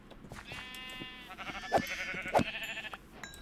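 Sheep bleating in the video game Minecraft, a few nasal wavering calls close by over quiet background game sounds.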